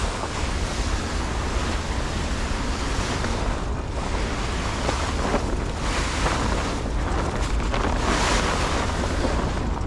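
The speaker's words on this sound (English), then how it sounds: "Oh, he got his blower going." A blower running outdoors on a freezing day beside tarp-covered junk, a steady broad roaring rush that holds loud and constant throughout, with no talk over it.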